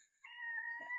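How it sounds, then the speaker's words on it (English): A house cat gives one drawn-out, harsh meow, close and clear with no other sounds around it. "She's been doing some nasty meows recently."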